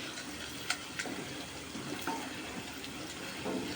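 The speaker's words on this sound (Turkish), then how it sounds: "Pilavım için suyum da kaynıyor." Low, steady bubbling and rumbling of water boiling in a pot, with occasional soft clinks, heard quietly and close by.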